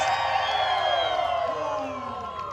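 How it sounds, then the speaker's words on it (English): Crowd cheering and whooping at a Deadpool holiday storytime show at Disney's California Adventure, a loud, sustained roar of voices that slowly eases toward the end. "Cheer louder so they put a Christmas bonus in my stocking."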